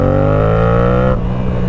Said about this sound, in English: Alright, a little downshift.